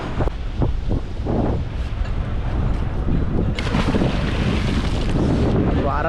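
A fishing boat sits at anchor on the open sea, with steady wind buffeting the microphone and water washing around the hull, loud and continuous throughout.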